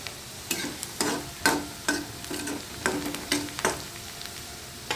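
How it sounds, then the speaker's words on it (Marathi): Chopped onion sautéing in a pan for peanut chutney, a steady sizzle broken by repeated sharp scrapes and clacks of a spatula stirring, close and fairly loud with no voices. "कांदा व्यवस्थित परतून घ्यायचा"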